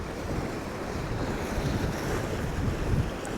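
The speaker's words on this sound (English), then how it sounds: "And that wind well and truly has picked up." Strong wind blowing on the seashore during a fishing session, a steady loud roar buffeting the microphone with surf-like rushing underneath, with no voices.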